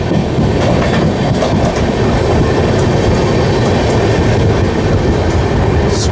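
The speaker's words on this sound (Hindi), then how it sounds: "स्टील कॉइल्स के साथ फ्रेट ट्रेन।" Freight train carrying steel coils rolling through Sakti railway station on the main line, a steady loud rumble of wagons with rhythmic wheel clatter throughout, no voices.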